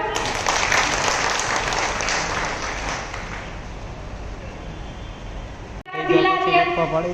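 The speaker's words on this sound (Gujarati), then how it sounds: "આપ બધાએ તાળીઓના ગડગડાટથી જિલ્લા અધ્યક્ષને માન સન્માન આપીને" An audience at an NGO federation convention gives loud, sustained applause for the district president, clapping densely for about six seconds before it cuts off and a voice begins talking.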